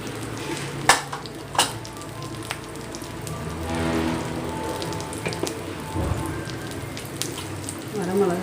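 Mustard and cumin seeds sizzle and crackle in hot oil in a pan for a tomato dish, a steady frying hiss with a few sharper pops and occasional stirring, fairly close and moderately loud.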